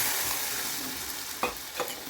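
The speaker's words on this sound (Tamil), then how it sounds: "இப்போ இந்த அரைச்ச கலவையை இதில் ஊற்றிட்டு நம்ம திருப்பி எடுத்து ஊற்றிக்கலாம்." Ground chutney mixture for a Madurai-style coconut-free chutney is poured into a hot tempering, giving a steady close sizzle with a couple of stirring scrapes near the end and no talking.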